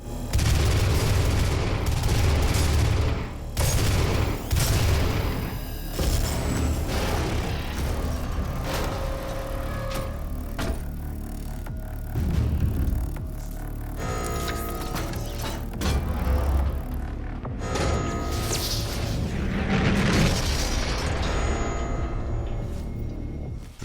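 Gunfire and explosions in the video game Doom (2016), dense loud bursts of shots and booming blasts in rapid succession, with mechanical clanks between, continuous for the whole stretch.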